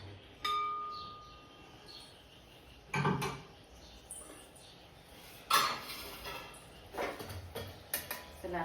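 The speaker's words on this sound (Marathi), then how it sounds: "चला आता इकडे ना कढई मी गॅसवर घेते" A kadhai (wok) set down on a gas stove in a home kitchen: a few sharp, close metallic clanks and clinks spaced several seconds apart, with a cluster of lighter knocks near the end and quiet room tone between them.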